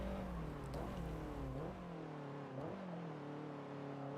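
A race car engine in a racing video game revs and drops through several heel-toe downshifts, each one a rising blip of pitch before falling away, steady and close with no talk over it.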